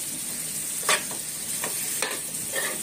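Capsicum bhaji sizzles in a pan while a spatula stirs it, giving a constant frying hiss with four or five distinct scraping strokes close by.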